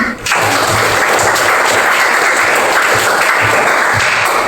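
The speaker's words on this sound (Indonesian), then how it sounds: "Tepuk tangan." A classroom of students claps together, loud, dense applause beginning abruptly and continuing steadily throughout.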